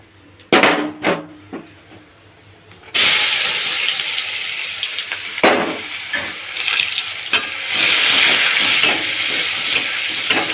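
Onion frying in hot oil tempered with black cumin, a quiet start giving way at about three seconds to a loud, steady sizzle with scattered knocks and stirring scrapes, no voices.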